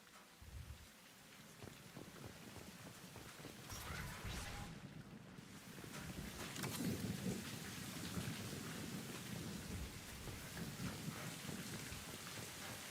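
Rain falls steadily in the video game Mass Effect 2, with thunder rolling under the downpour, the hiss thickening and growing louder partway through.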